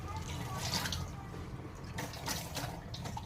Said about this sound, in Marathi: सगळेच आंबे मी धुवून घेते